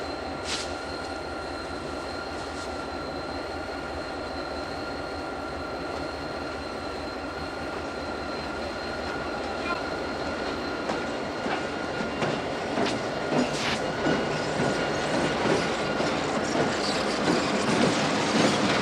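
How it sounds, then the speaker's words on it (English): A Conrail eastbound freight train on the Southern Tier Line at Great Bend rolls past with a steady, close rumble of wheels and cars that grows louder and choppier toward the end. "There's eastbound freight at Great Bend, June"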